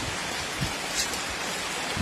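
Steady rain pours outside a house, a dense continuous hiss of falling water with scattered close drips, moderately loud and unbroken.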